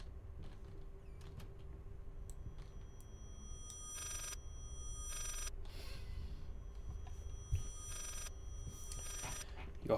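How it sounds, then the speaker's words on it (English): A phone rings in the horror video game Layers of Fear, sounding as several bright, repeated ringing bursts spaced over a quiet, low ambient room tone, with no talking. "Your phone ringing, your phone ringing."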